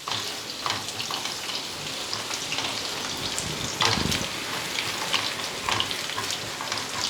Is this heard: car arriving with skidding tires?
no